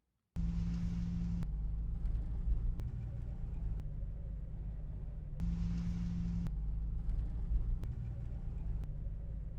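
Steady low road rumble and engine drone inside a Jeep Wrangler YJ cabin while driving, a continuous loud hum cut into short segments with abrupt breaks between them and no talking.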